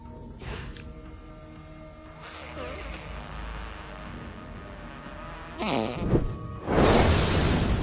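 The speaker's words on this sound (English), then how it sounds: "I need to use that fart thing." Fart attack in South Park: The Stick of Truth, a buzzing, sputtering flatulent blast rising near the end, ringing out over faint game music and effects.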